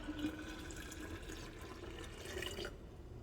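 Chokecherry juice poured from a measure into a sterilized half-gallon glass jar, a steady close trickling and splashing of liquid that runs evenly for a few seconds, then cuts off abruptly.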